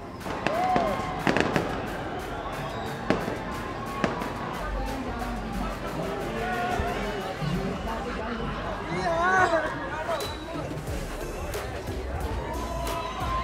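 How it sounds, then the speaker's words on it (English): Halloween fireworks in Vancouver crack and boom repeatedly at a distance, sharp irregular bangs and whistles over an outdoor crowd's chatter, with people talking nearby. "Don't film the fireworks. Everybody else is filming the fireworks."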